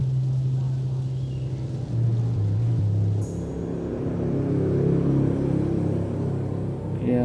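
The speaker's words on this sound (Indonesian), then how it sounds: "mau tes bagaimana suara dari Polytron" A Polytron PMA9501 Bluetooth speaker plays test audio, giving a steady, full low rumble like an engine or boat motor that holds at an even loudness for about seven seconds.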